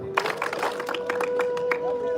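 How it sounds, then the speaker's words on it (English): An audience at a charity event claps in a group, with a handful of sharp, slightly scattered claps over murmuring voices and a steady background tone. "I'm gonna say 1, 2, and you guys will clap twice."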